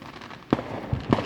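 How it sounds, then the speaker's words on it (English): Fireworks going off outdoors, three sharp booming bursts spaced about half a second apart, loud and close, with crackling decay between them and no voices. "You like the fireworks?"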